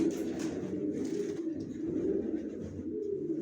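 Racer pigeons cooing in a loft, a steady low murmur of several birds overlapping continuously at close range, with no talk.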